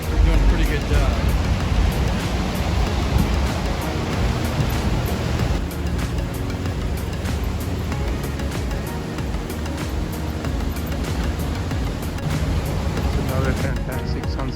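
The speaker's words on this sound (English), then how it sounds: "That's some pretty big waves and you're just paddle bordering over the waves." Big ocean waves break at a California beach in a steady, loud wash of surf, with a constant rushing roar and some wind over the full length.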